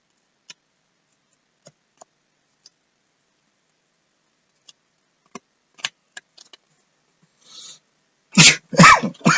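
Two loud, close coughing bursts near the end, coming after a quiet stretch of small scattered clicks and handling noises while sports trading cards from a Topps Series 1 hanger box are opened.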